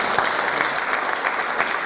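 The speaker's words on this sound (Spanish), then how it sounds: "Señoras y señores, recibamos con un fuerte aplauso al grupo Habaneando." A festival crowd at an outdoor habaneras night applauds the choir group Habaneando, dense continuous clapping from many hands, loud and even throughout with no voices standing out.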